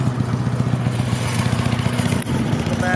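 A small engine with a clogged air filter runs steadily up close, a continuous low throbbing drone with a brief dip near the end before the rumble picks back up.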